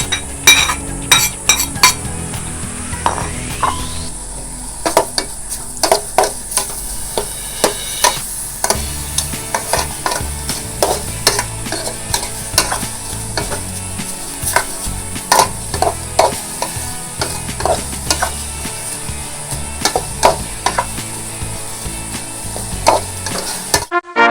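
Pork and offal fry in a pan for Isaan larb, a steady sizzle under repeated scraping and clinking of a utensil stirring against the metal, close and busy throughout.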